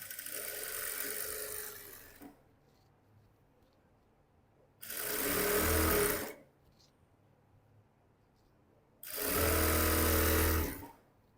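A sewing machine stitches pants in three separate bursts of steady whirring, each lasting about two seconds, with quiet pauses between them.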